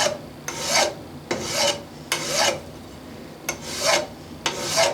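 A part for a boy's model steam engine is worked with a hand file in close, loud rasping strokes, about six in an even rhythm with short pauses between them, with no talking.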